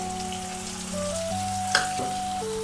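Ground cumin, chilli, turmeric and coriander fry in a pan with softened onion, ginger, garlic and tomato for a Bengali katla kalia fish curry, giving a steady close sizzle with a brief stir clatter, no voices.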